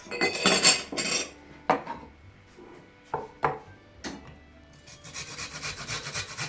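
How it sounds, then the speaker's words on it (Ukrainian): Garlic rubbed against a grater in a kitchen, a few rasping scrapes near the start followed by scattered clicks and knocks, then a softer steady scraping toward the end. "Натираємо часничок."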